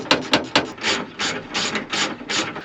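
A ratchet wrench tightens bolts with loud, close clicking bursts, a few rapid sharp ratchets followed by a steady rhythm of longer clicking strokes, with no talking.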